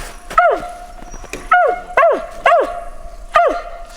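Mountain Feist dog barking in the woods on a squirrel hunt, five sharp, fairly close yips spaced irregularly across a few seconds, each bark falling quickly in pitch.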